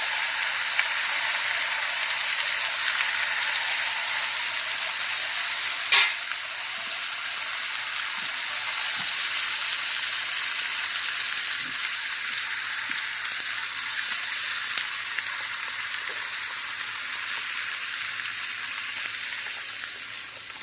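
Apple pies frying in melted fat, a steady, even sizzle that runs unbroken throughout, with a few faint clicks and no talking.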